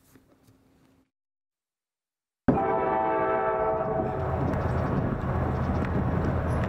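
An express train passes a railway crossing at full speed: after a quiet start a loud, sustained roar of rolling wagons sets in abruptly, with a horn-like tone at first, and stays close and heavy.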